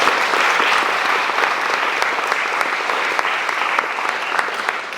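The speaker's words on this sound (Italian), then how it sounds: "direi un applauso per Corrado" Steady, loud applause from an audience at a live event, sustained crowd clapping for Corrado that continues evenly throughout without pause.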